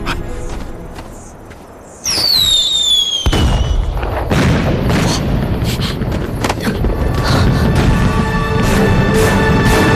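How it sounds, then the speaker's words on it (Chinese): A rising whistle shoots up, then fireworks set off on a mountain at midnight burst loudly and crackle in a dense, continuous barrage of pops and booms. "大半夜，居然还有人在山上放烟花"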